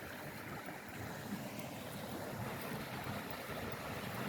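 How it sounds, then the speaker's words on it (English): Fresh water from a spring runs in a small stream beside a historic village street of thatched cottages, a faint, steady rushing and trickling with no voices. "The water, fresh water coming from there"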